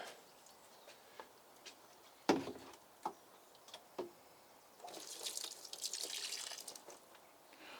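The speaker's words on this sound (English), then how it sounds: "I'm going to carry on watering the ones that I want to water" Water poured over potted garden plants, with a few scattered drips and splashes followed by a steadier spray of water running onto soil and leaves for a few seconds, close and moderately quiet.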